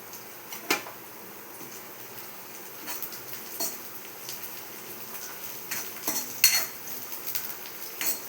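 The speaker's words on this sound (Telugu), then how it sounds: "ఆనియన్స్ కొంచెం వేగుతున్నప్పుడు మనము పచ్చిమిర్చి వేసుకుందాం" Green chilies tossed into onions frying in a pan for chicken curry, a soft, faint sizzle under light spoon clinks and scrapes as the mix is stirred, without any talk.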